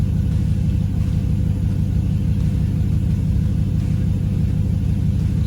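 A 5.3 LS V8 swapped into a Pontiac Firebird idles steadily with a deep, even low rumble, close and continuous with no talk over it.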